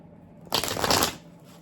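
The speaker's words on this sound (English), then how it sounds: "So we are going to quickly shuffle up and say our prayer" Tarot cards are shuffled in one quick, close burst of dense riffling that lasts about half a second, then fades. No voices are heard.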